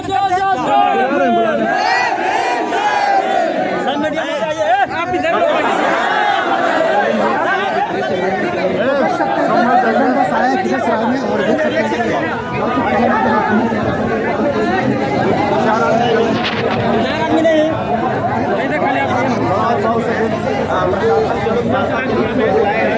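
A dense crowd of people chattering nonstop at a gathering, many overlapping voices forming a loud, steady hubbub close by with no breaks for about twenty seconds.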